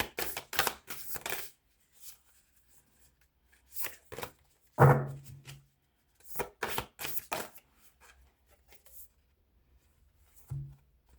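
Tarot cards are shuffled and drawn in a few short bursts of crisp riffling and slapping, with sharp card snaps spaced between quiet gaps, close and clear. A voice speaks briefly between the shuffles.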